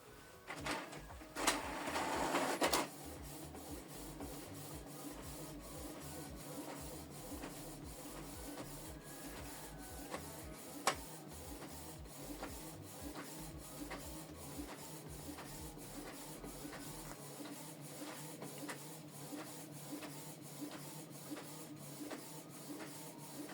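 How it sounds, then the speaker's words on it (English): A Canon Pixma TS8750 printer printing a document, a steady run of rhythmic mechanical clicks and whirring of paper feed and print head, with a brief louder rush near the start, close and quiet, no voices. "So this document is printing."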